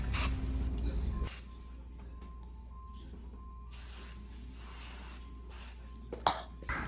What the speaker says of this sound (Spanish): Me van a bañar en spray.